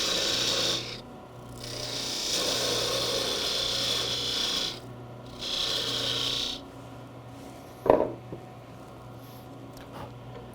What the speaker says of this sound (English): you may find now that you need to use your parting tool to part down a little bit further